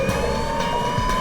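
An ambulance siren sounds over a running engine as it closes on a van, a steady wailing tone layered over loud traffic rumble.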